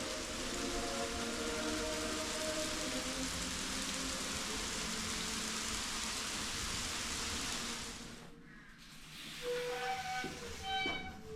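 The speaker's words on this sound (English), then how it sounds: "It's still raining." Steady rain falls with a broad, even hiss, heard from shelter inside a church, easing and changing character near the end.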